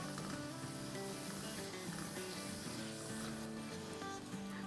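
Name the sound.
masala spices frying in a pan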